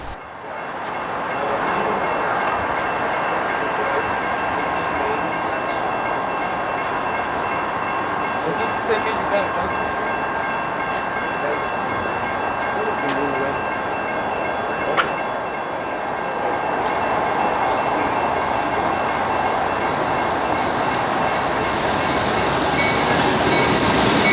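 A CSX freight train rolls steadily through Hollywood Station in South Florida, a continuous loud rumble with faint rail squeals and clatter lasting throughout, with occasional voices beneath.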